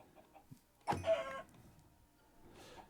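A chicken clucks in a video game, a short burst of clucking near the middle that is fairly close and stands alone over a quiet background, with a fainter cluck near the end.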